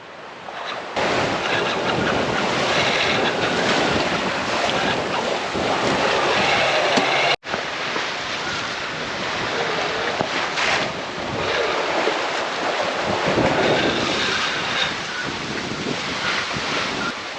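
Strong, sustained wind of about 15 knots gusting to 20 roars over the microphone alongside the wash of waves against a moving sailboat in the Caribbean, loud and constant with one brief dropout.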